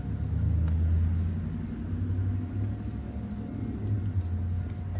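A Powersmart 80V electric dual-stage self-propelled snowblower drives along, giving a steady low motor hum and rumble that runs continuously at close range with no talk.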